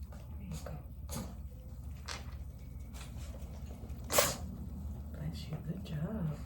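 A stray dog gives one short, sharp sneeze partway through, amid soft handling noises, and a person speaks nearby.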